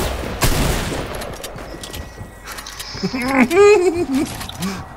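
Rapid gunfire bursts from the Fortnite video game crackle sharply near the start and recur among other game effects, while a player shouts excitedly over the action.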